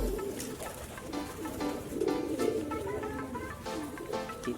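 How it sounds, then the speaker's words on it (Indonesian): Domestic pigeon cooing, a newly bought bird, soft repeated low throaty coos at close range, continuing steadily with no talking. "merpati rumahan"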